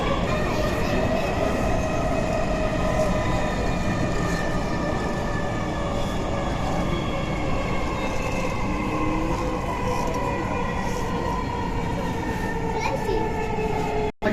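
Dhaka metro rail train running steadily at speed, a continuous loud rumble with tonal whine and steady rail noise throughout, ending abruptly.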